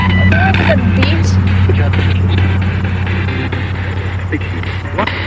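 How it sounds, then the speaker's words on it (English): A car passes by on a road near a cemetery after sunset, its engine rumble loud and steady throughout, with people talking over it. "Can't hear with the car coming by."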